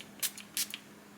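Two quick hissing pump sprays from a small bottle of facial toning mist, close and crisp, with a short pause between them in a quiet room.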